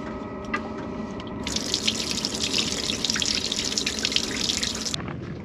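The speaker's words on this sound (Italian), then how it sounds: "apro quindi il rubinetto, che nel mio caso è posizionato nella zona destra" Water gushes steadily from an open tap in a camper van, a bright continuous splashing stream running close for several seconds, with faint drips and handling noise before it starts.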